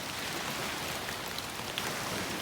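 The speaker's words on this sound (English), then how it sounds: "Sam and I are going to venture out and explore a little bit, even though it's pouring rain." Pouring winter rain at a campsite by the beach, a steady dense hiss of drops on surfaces, with no talk and no pauses.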